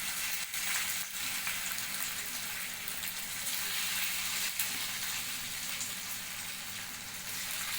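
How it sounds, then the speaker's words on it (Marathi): Vegetable kofta shallow frying in oil in a pan gives a dense, even sizzle that holds steady throughout, with a couple of faint knocks and no voices. "तर आपण आता याच्यामध्ये शॅलो फ्राय करून घेऊ."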